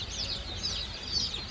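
Bantam chickens in a store cluck softly and steadily, with a few brighter chirpy calls rising over a low background rumble; no one speaks.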